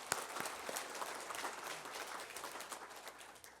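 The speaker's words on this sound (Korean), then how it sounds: "우리 하나님께 영광의 박수 한번 치겠습니다" A church congregation applauds during a service, giving a steady, faint patter of many hands clapping at a distance with no pause for a few seconds.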